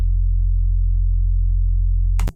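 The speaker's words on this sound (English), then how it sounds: "So now we should have a nice, even, long note." A steady, synthesized low sine tone stretched into one long, even note, loud and unwavering for about two seconds before cutting off abruptly with a brief click.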